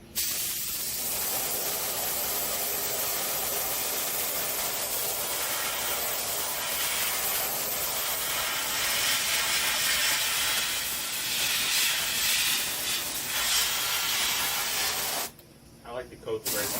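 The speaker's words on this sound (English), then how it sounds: "I like to coat the very bottom first." Steady, loud hiss of spray coating applied to a pet grave marker, running continuously for about fifteen seconds before cutting out abruptly, with a few short bursts afterward.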